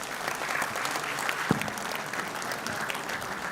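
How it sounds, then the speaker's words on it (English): Conference audience at a university event applauding an award winner: steady, fairly loud clapping from many hands throughout, with one sharper clap standing out briefly. "Let's have a huge round of applause for him."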